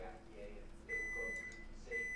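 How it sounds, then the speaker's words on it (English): A microwave oven beeps when the food is done, two or three clear, evenly spaced electronic tones over a low room hum, with faint talking in the background. "Nothing like the microwave. It's almost like when the food is done, you take it out, but not here. you leave it in, so it beeps 10 more times."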